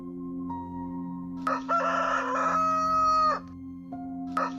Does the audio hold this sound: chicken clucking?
yes